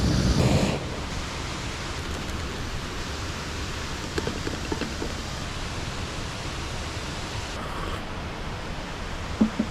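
Thick raindrops fall steadily on a camping tent and tarp, a dense, even patter that fills the space without letup, with a few louder knocks and rustles close by.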